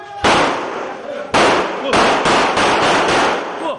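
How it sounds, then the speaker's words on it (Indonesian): A man fires a handgun into the air in Percut Sei Tuan, Deli Serdang, several loud sharp shots in quick succession, the first ones spaced and the later ones tightly clustered, close and dominating the scene. "Seperti inilah aksi koboi seorang pria di Deli Serdang saat melepaskan sebanyak 7 kali tembakan ke udara"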